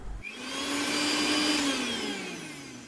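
A mixer grinder whirring puttu flour mixed with wheat flour, one continuous high whine that rises and holds for a couple of seconds, then eases, close and alone with no talk.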